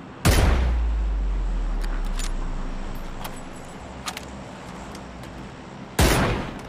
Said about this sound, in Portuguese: Clipa essa errada de tiro.